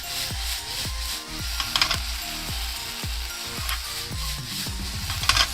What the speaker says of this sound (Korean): 노릇노릇하게 타지 않게 여러 차례 천천히 볶아주세요